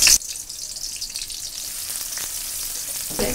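Onions frying in hot oil for a Bangladeshi fish curry, a steady close crackling sizzle that fills the clip, with a brief louder burst at the start and end as the pan is disturbed.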